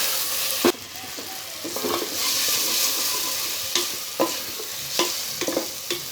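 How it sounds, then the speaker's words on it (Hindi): Tomatoes frying over a slow flame for apple gourd (tinda) curry, making a steady close sizzle with a spoon scraping and tapping the pan every second or so, and no talking. "टमाटर को गलने तक हम थोड़ा स्लो फ्लेम पे इसको भूंजेंगे।"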